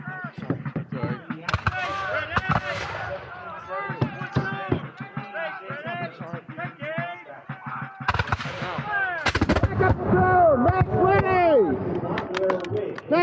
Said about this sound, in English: Fire by platoons!